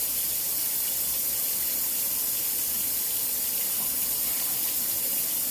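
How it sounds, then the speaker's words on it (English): Cool tap water pours steadily into a bowl, a continuous close hiss and splash of filling with no pauses and no talking. "I'm refilling this bowl. I mean, it's not super cold because it is summer, but it's cool water."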